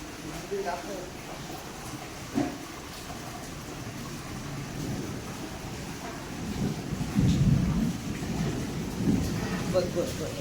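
Low thunder rumbles during heavy outdoor rain, swelling louder toward the end over a steady wash of rainfall, with people talking throughout.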